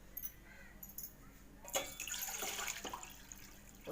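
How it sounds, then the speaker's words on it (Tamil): A cup of water is poured for coriander tea in a village kitchen, a faint trickle rising to a steadier splashing pour near the end, quiet and with no talk. "ஒரு கப் தண்ணி ஊற்றிக்கிட்டேன்."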